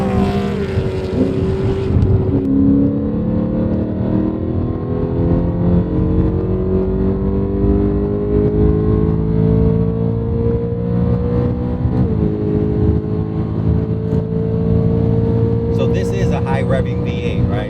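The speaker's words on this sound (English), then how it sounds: "And Miguel, give me a downshift and do a light pull, right? And just hear that. Hear the blips of the DCT transmission." BMW E92 M3 V8 with a DCT gearbox pulling under acceleration, a loud, close engine drone climbing steadily in pitch, interrupted by a quick downshift blip, with wind buffeting the microphone.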